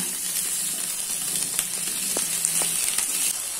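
Cauliflower florets and potato pieces fry in hot oil in a pan over a medium flame, giving a steady, close sizzle with a few brief clinks of stirring.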